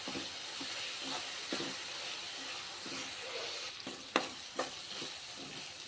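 Ground spice paste with ginger and garlic fries in oil for a fish curry, giving a soft continuous sizzle broken by scraping stirs and a few sharp clinks of a utensil against the pan.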